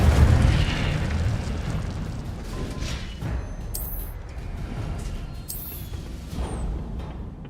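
Incendio fire spells cast in Hogwarts Legacy, a dense roaring whoosh of flame with repeated bursts and crackling over continuous loud combat noise.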